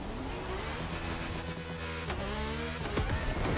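Revving engine of the I1 car accelerating flat out in the racing game The Crew Motorfest, a steady loud whine climbing in pitch with gear-shift drops partway through, no talk.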